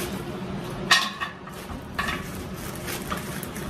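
Frozen potatoes and sausage fry together in one pan with a soft, continuous sizzle, broken by a few distinct clinks and scrapes of utensils against the pan.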